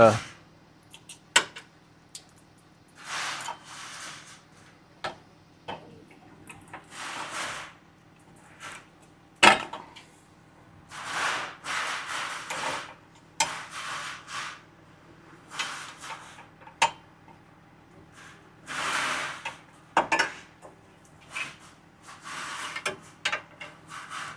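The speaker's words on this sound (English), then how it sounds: "work these little clips off of these" Plastic clips being worked off a car's rear bumper, intermittent rubbing, scraping and creaking bursts with sharp clicks and knocks, separated by quiet pauses, with someone talking at times.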